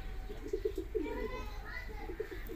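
Fancy pigeons, including Sentinet and King breeds, coo softly in a series of low rounded calls, fairly faint, with someone talking at the same time and light background chatter.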